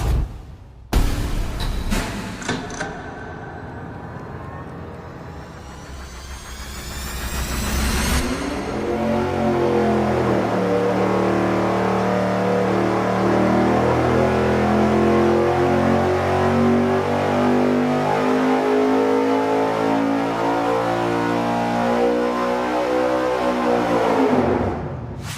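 An engine running on a dyno with a 90 mm throttle body: a few sharp bursts, then a loud rising rev lasting about seven seconds, followed by a sustained, pitch-climbing roar at full load until it cuts off near the end.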